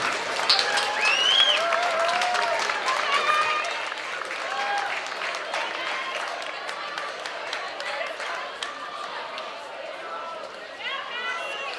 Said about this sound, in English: Give a round of applause, ladies and gentlemen, for the cheerleader seniors.